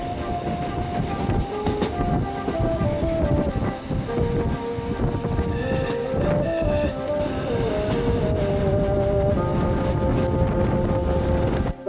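Train running on rails between Andermatt and St. Moritz in the Swiss Alps, a continuous loud rumble with wheel squeal and rhythmic clatter, heard close as if from on board, with no talking.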